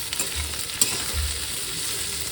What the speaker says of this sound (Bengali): একটু করে আদা দিয়ে মিক্স করে নেবো